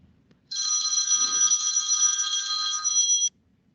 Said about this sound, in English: Could you guys hear the phone ringing?